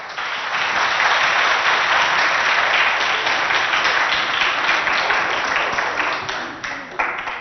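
A school audience applauds and cheers for pupils representing their school in a quiz-style competition in Abéché, Chad; dense, steady clapping fills the whole stretch at a loud level, fading slightly near the end.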